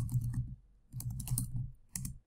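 Typing on a computer keyboard comes in three short bursts of rapid, close key clicks separated by brief pauses, with no voice.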